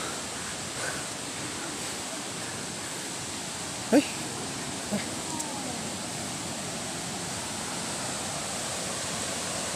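Asik Asik Falls heard from the approach, a steady broadband rush of falling water continuing throughout, with a brief exclamation from a voice partway through.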